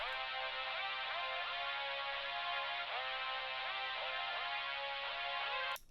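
Bright, wide supersaw chord melody from a Serum rage-style preset, stacked in octaves with repeating downward-sweeping note attacks in a steady rhythm, loud and sustained alone before cutting off at the end.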